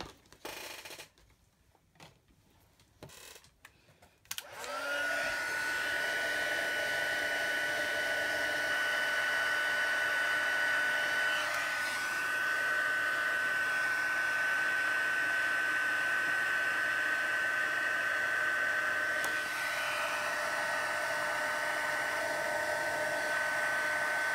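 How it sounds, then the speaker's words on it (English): A heat gun setting embossing powder on a handmade card starts after a few seconds of small handling noises, then blows a loud, continuous whooshing roar with a steady tone that runs to the end. "let's just get my heat gun out and set this."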